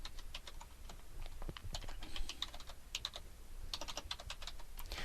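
Someone types an address on a computer keyboard in a quiet room, making a quick, uneven patter of soft key clicks that runs for the whole stretch, close to the microphone, with no talking.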